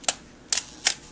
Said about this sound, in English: The shutter does fire.